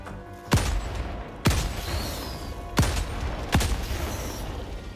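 Four separate gunshots from a weapon in the third-person shooter Helldivers 2, spaced about a second apart, each a sharp loud crack with a short decaying tail over steady game ambience.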